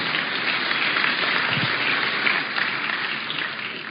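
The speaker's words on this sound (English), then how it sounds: "You should give her a round of applause." A steady, even wash of crowd applause, fairly loud and continuous for the whole stretch with no voices over it, sounding somewhat like rain.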